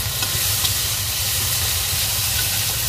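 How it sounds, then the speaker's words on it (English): Finely diced onion fries in a pan with chili paste, giving a constant, close sizzle and hiss with no voices. "Just keep frying until it's fragrant."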